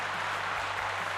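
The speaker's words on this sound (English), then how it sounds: "Shouldn't we always have an applause after a workout?" Applause from a cardio kickboxing group fitness class, a brief steady wash of clapping with a low hum underneath.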